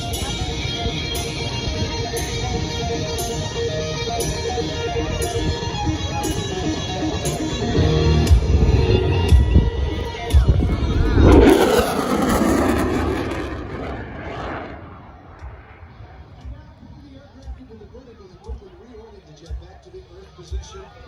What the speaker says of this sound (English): Watch now as the Super Hornet passes the high-speed pass.